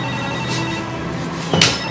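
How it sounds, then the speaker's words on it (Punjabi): A telephone rings in short electronic tones, fairly loud and close, over a faint hum of background noise. "Mandeep the phone"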